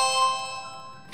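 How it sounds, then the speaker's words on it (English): A doorbell in a home gives a single bright chime, near and ringing out as it decays, alone. "that's just Cole's doorbell that I just rang"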